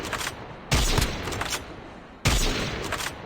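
Bursts of automatic gunfire in the battle royale mode of Call of Duty Mobile come in two sharp volleys with a crackling rattle between them, loud and close.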